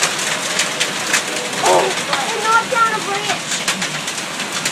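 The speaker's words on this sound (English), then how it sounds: "This is the worst rain this town has ever had." Heavy summer storm rain pours steadily with bits of hail mixed in, a constant wash of noise close by, while birds coo faintly and people talk over it.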